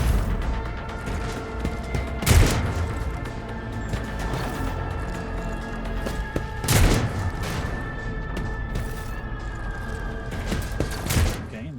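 Gunfire in the video game Warhammer 40K: Rogue Trader, two loud separate shot impacts a few seconds apart over a humming background with faint tonal drones.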